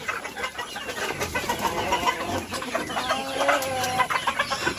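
Golden hens, about 200 laying birds kept for eggs on a poultry farm, cluck and chatter steadily at close range, with overlapping calls forming a busy continuous flock murmur throughout.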